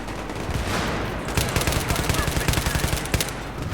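Rapid bursts of automatic gunfire from Battlefield 3 gameplay on the Operation Métro map, loud and close with a steady rattling rhythm.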